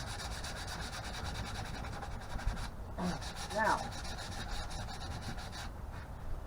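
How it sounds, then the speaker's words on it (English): A wooden cabinet is hand-sanded with coarse 80 grit sandpaper in continuous scratchy rubbing strokes, close and steady for several seconds, and someone speaks briefly over it. "So we are going to start sanding this bad boy."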